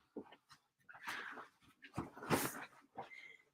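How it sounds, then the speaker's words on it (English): A dog sniffs and whimpers at a door indoors, quick snuffling breaths mixed with soft high whines, close and fairly quiet, in short irregular bursts. "My dog is sniffing at the door."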